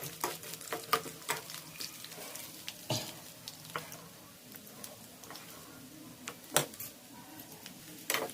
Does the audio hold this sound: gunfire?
no